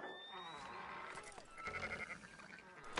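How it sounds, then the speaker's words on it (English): Sheep bleat in the western game Red Dead Redemption 2, a few faint, quavering calls over ambient farm sounds, with a brief wavering bleat in the middle. "Fine sheep."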